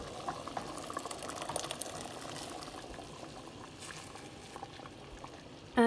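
Water bubbling at a steady boil in a pot on the stove before lentils go in, a soft continuous simmering hiss with no talking over it.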